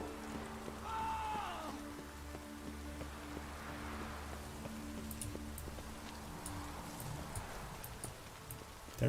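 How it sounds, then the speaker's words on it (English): Steady light rain patters through a rainy outdoor scene in The Witcher 3: Wild Hunt, with faint clip-clop of horse hooves and soft tonal game ambience underneath, no talk. "Looks like rain."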